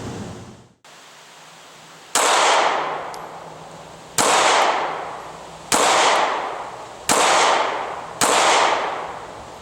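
Five sharp, loud 9mm pistol shots from Smith & Wesson M&P 9c and M&P Shield handguns at an outdoor range, spaced about one to two seconds apart, each followed by a long decaying echo.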